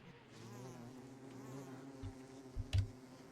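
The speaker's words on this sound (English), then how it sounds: "the bees are pretty close to my base right now" Bees from the Don't Starve Together video game buzz near a player's base, a steady close droning hum with a few soft thumps near the end, and no talk.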